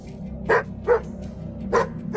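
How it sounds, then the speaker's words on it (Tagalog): A pet dog barks four times nearby in an uneven rhythm, each bark loud and sharp over a low steady background hum. "panay ang angil at pagtahol ng aking alaga"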